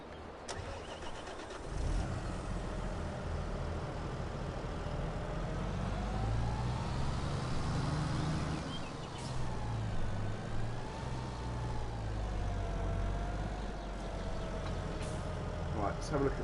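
Tractor engine in Farming Simulator 22, a small, light machine revving up and holding a steady, loud hum with pitch swells, and talk running over it.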